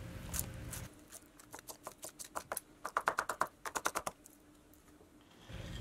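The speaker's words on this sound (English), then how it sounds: "Cut the noodles into about 1/2 inch pieces." A knife chops cooked, cold-rinsed noodles into small pieces on a board, producing a quick run of sharp, evenly spaced taps that speed up and grow louder in the middle, close by with no voice.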